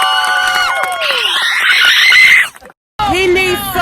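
A film crew on a behind-the-scenes wrap cheers and shouts loudly for a colleague named Faith, a close, excited burst of raised voices that cuts out briefly before resuming.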